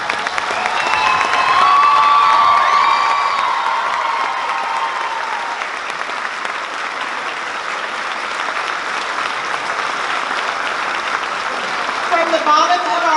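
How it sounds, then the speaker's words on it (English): Audience at a fifth grade Veterans Day concert giving veterans a long, loud round of applause, dense clapping with some cheering that stays full throughout and swells slightly at the end. "we need to give you a big round of applause"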